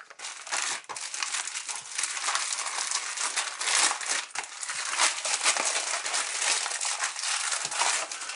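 A plastic bag holding parts for a DeAgostini Star Wars Millennium Falcon model kit is crinkled and handled. It makes a dense, continuous, close-up crackling and rustling that runs almost the whole time, with no talk.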